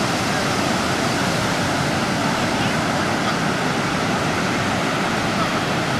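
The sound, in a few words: ocean waves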